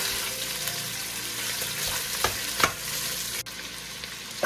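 Bacon frying in extra virgin olive oil for callos, a continuous close sizzle with a few utensil knocks and a brief clatter near the end, no talking.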